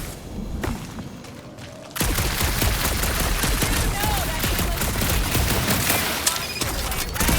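Rapid bursts of gunfire and thudding impacts from the video game Marvel's Guardians of the Galaxy, quiet at first then erupting into a loud, continuous fusillade with whooshes and booms, briefly under a spoken line.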